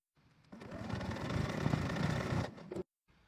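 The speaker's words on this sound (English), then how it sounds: "you're going to stitch across there with a 1/4 inch seam allowance" A sewing machine stitches across the end of a fabric tube at a 1/4 inch seam allowance, running in one steady close whir for about two seconds before stopping abruptly, with no talk.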